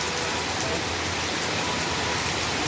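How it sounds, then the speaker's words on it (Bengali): Heavy rain lashes Jaipur, Rajasthan, as a loud, dense wash of falling water, steady and close, with no talking. "এখন প্রায় রাজস্থান জয়পুরে এইরকম বৃষ্টি"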